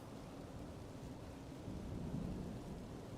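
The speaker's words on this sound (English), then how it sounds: "Ooh, listen to the storm." A thunderstorm with steady rain in Zelda: Tears of the Kingdom, a low rumble of distant thunder swelling briefly over a constant hiss of rainfall, with no talking.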